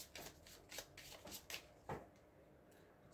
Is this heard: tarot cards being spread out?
yes